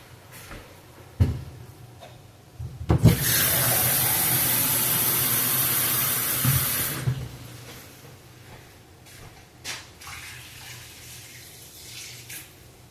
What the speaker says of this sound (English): Then I'm going to add water for the rest of it.